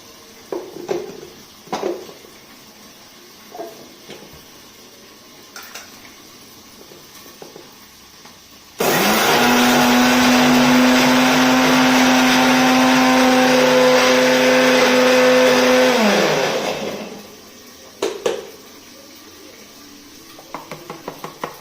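Electric mixer grinding sesame seeds, coconut and garlic into paste, a loud steady whirring roar lasting about eight seconds that starts abruptly and winds down, framed by quieter kitchen clatter before and after.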